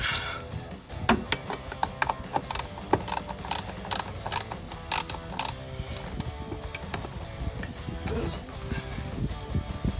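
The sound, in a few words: ratchet with short socket removing bolts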